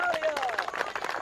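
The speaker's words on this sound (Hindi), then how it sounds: "तालियां!" Crowd clapping at a rally-style speech in a Pakistani-Indian romantic film, brisk scattered hand claps mixed with voices and babble, moderately loud and brief.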